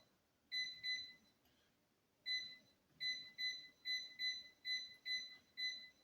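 An air fryer's control panel chirps as the temperature is set for cooking a leg of lamb: a clear pair of high electronic beeps, a pause, then a quick run of similar double beeps, heard alone and fairly quietly.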